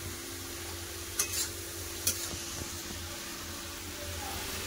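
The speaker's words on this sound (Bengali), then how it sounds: "ভালো করে কষা হয়ে গেছে, এবার আমি বাঁধাকপি দিয়ে দেবো।" Cabbage fries in a pan with spices, giving a steady soft sizzle throughout. Two or three brief scraping strokes from a spoon stirring against the pan stand out near the middle.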